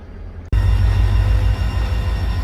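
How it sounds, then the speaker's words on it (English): Three GP38 diesel locomotives easing onto siding track in a railway video game give a loud, steady rolling rumble that kicks in suddenly and holds close and continuous. "Here we can see the 3 GP38s parking in one of the siding tracks"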